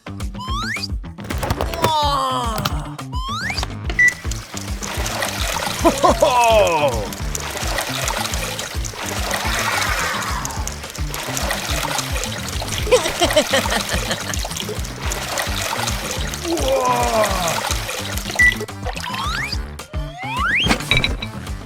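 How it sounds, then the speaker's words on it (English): A LEGO centrifugal pump with a spinning impeller moves water through its outlet, giving steady pouring and trickling water with small mechanical clicks and thunks, close by and continuous throughout. "It has a spinning impeller to push water outward and through the outlet. Testing water transfer."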